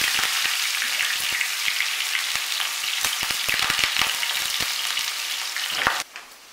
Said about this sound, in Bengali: এবার আমি এর মধ্যে পেঁয়াজ দিয়ে দেব।